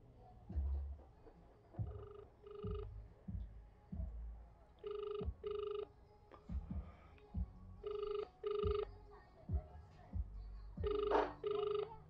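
A cellphone call rings in repeated paired electronic trills at a steady rhythm, several cycles heard, with quiet voices and background noise between the rings.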